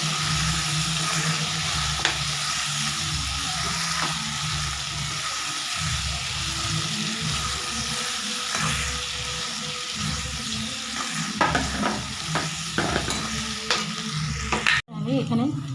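Turmeric and Kashmiri chilli powder get stirred into hot oil in a pan, giving a steady sizzle with scraping spoon strokes, close and continuous, ending in a sharp clatter.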